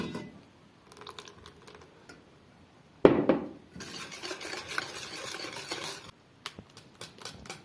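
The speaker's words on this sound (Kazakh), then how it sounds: "Осыларды бірінші араластырып аламыз." A spoon stirs cake batter with sugar for a steamed cake, making a steady, close scraping and swishing that rasps against the bowl in short strokes, fairly quiet with brief louder bursts.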